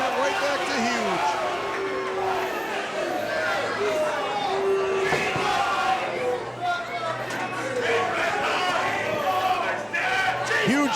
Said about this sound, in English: And the crowd giving it right back to Huge